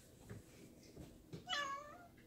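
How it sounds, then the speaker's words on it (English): A pet cat gives a single short meow, fairly near and moderately loud, after a few faint soft knocks in an otherwise quiet kitchen where raw chicken is being prepared. "Hang on, I heard him meow."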